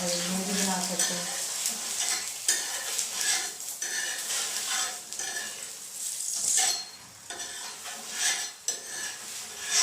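A paratha frying in ghee on a pan over medium heat, with a steady close sizzle broken by repeated scraping and clinking of a utensil against the pan.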